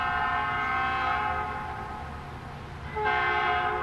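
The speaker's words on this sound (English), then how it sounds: "there's a train going by somewhere" A distant train rumbles by in an American Truck Simulator scene, its horn sounding in long sustained tones that fade and then return louder near the end over a steady engine drone.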